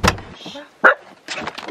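Dog barking in short, sharp bursts close by beside a camper van on a narrow Irish road, with a few separate barks and some low movement noise in between.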